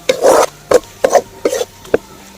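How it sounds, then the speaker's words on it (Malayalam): Fried prawns tipped into a pan of biryani masala and stirred in, giving a series of short, close scraping and rubbing strokes separated by brief pauses. "ഇനി നമുക്കിതിലേക്ക് നമ്മൾ വറുത്ത് വെച്ച ചെമ്മീനും കൂടി ഇട്ട് കൊടുക്കുന്നുണ്ട്"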